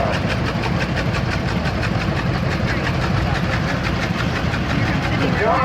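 A John Deere AR vintage tractor engine runs steadily through a 2016 tractor parade, a continuous loud rumble with rhythmic low pulses, heard alongside crowd noise and distant voices.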